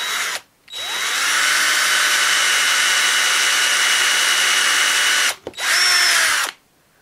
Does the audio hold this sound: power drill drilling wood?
yes